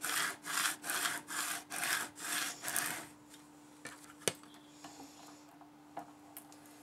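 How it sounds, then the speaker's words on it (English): A scraper rubbing over transfer tape on large vinyl, about seven rhythmic, close scraping strokes over the first three seconds, then a quieter stretch with a few faint clicks and light handling noises. "so now we're just going to remove our transfer tape"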